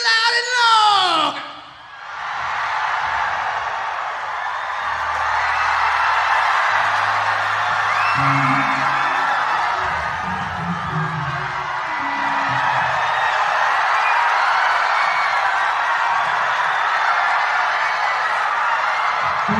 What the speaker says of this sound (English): Let me hear you now scream loud and long.